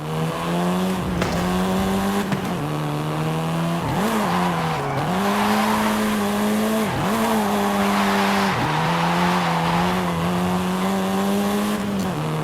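A Volkswagen Golf R in Forza Horizon 5 drives hard with a loud, steady engine drone, its pitch dipping and rising at each gear change, with tyre noise throughout.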